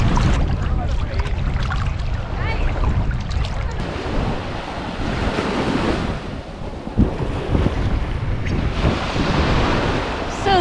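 Ocean waves washing onto the soft white sand beach at Playa Mujeres in Cancun, a continuous surf rumble with heavy wind buffeting the microphone and swells rising and falling, no speech.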